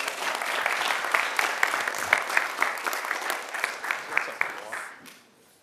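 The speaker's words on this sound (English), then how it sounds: "Let's give the young man a round of applause." A room at a county commission meeting breaks into a full round of applause for a young man, dense sustained clapping that fades away in the last half second.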